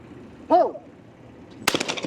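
A single sharp gunshot cracks out at an outdoor shooting range near the end, loud and close, after a brief exclamation from a person nearby.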